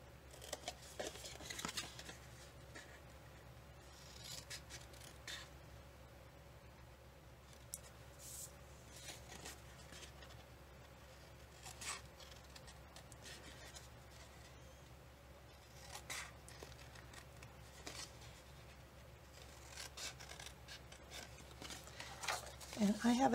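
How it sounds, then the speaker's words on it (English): Scissors snip off and trim parts of a craft piece, making a series of faint, quick clicking cuts at close range with quiet handling noise between them. "I'm going to snip this part off."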